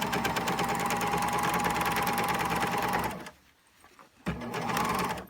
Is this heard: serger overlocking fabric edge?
yes